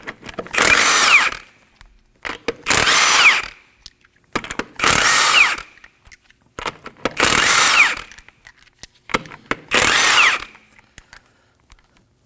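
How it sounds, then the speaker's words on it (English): Power impact tool with a 21mm socket spinning off lug nuts from the front wheel of a 2011-2016 Kia Optima, five loud whirring bursts of about a second each, separated by clicks and handling noises, close up. "Using a 21mm socket, go ahead and remove the lug nuts."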